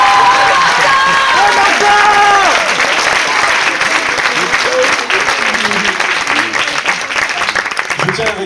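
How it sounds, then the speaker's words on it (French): A school concert audience in a lycée hall applauds the drummer, loud sustained clapping with some cheering, while a brief musical tone rings out at the start. "On peut l'applaudir."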